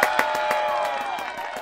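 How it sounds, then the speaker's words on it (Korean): Audience at a university event, Chongshin University's singing-contest final: rhythmic group clapping with cheering from a crowd, fairly close and steady throughout a brief burst. "박수!"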